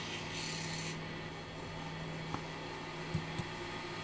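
A wooden pepper grinder being buffed with solid carnauba wax and burnished, a steady dry rubbing rasp running throughout under a constant machine hum, with a few faint clicks near the end.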